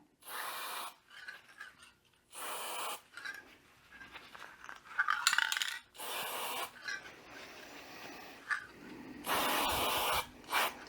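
Graphite lubricant sprayed onto a lawn mower gear in short repeated hissing bursts, close and fairly loud, separated by brief pauses and small handling noises.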